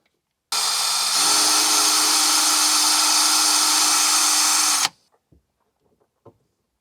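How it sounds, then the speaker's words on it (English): A steady high-pitched drill whine from a 1.5mm steel bit drilling into a Mk2 Volkswagen Golf GTI part runs for about four seconds, loud and close, then cuts off, followed by a few faint clicks. "So let's drill."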